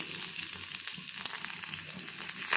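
Cumin seeds and dried red chillies sizzle in hot oil with a steady, crackling hiss and faint pops, close and fairly quiet, with no talking.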